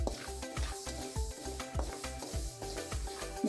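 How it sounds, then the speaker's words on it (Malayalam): Kodo millet roasting in a pan, the grains hissing and rattling as a spatula stirs them in quick repeated scrapes, close and continuous. "ഇനി നമുക്ക് കോറ വറുത്തെടുക്കാം."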